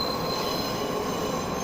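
Train wheels squealing at a JR station platform, a steady high metallic screech held continuously over low rumbling, fairly loud and close, with no voices.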